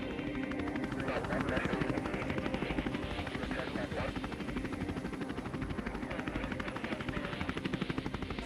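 A medevac helicopter thumps loudly and continuously nearby, rotor chop and engine whine filling the scene with no break.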